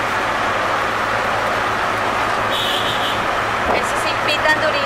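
Chaotic street traffic in New Delhi, heard as a steady broad roadway roar with engine hum, a brief horn-like tone mid-way and close passing clatter near the end; people talk over it.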